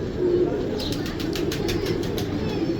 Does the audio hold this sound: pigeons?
yes